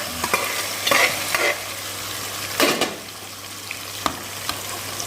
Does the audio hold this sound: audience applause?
no